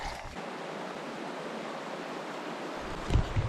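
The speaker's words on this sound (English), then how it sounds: "I can hear running water, so I know that there's a creek over there" Steady broadband rush of a creek's running water in rugged Gippsland mountain country, a continuous even wash heard alone with a brief louder knock near the end.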